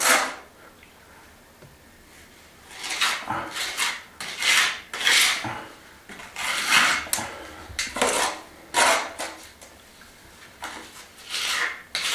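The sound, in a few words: scraper filling narrow gaps on wall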